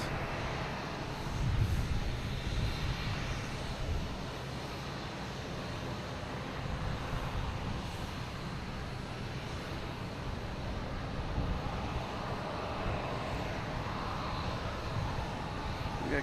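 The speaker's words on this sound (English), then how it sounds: "American Airlines coming in from" An American Airlines airliner arriving at Boston Logan from Columbus gives a steady, broad engine roar at moderate distance, holding evenly for the whole stretch with no talk over it.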